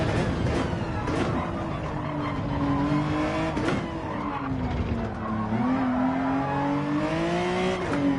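A race car in Gran Turismo 7 slides into oversteer, its tires squealing in long wavering tones over a continuous engine roar.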